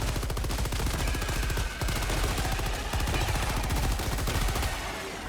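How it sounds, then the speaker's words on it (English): Sustained machine gun fire in Helldivers 2, a dense rapid stream of loud close shots with a brief break partway through, heard without talk. "Machine gun time."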